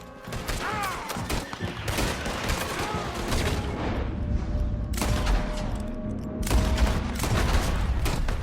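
Red Dead Redemption 2 gunfire: a loud, rapid volley of overlapping gunshots and booms that keeps up almost without pause, with brief shouting mixed in.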